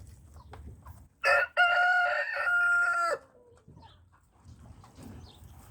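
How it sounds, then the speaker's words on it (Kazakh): Chickens feeding alongside livestock give a loud burst of crowing and clucking in the middle, one sustained harmonic call standing out, with quieter farmyard rustle before and after. "Тауықтар да жағаласып жеп отыр малдармен бірге."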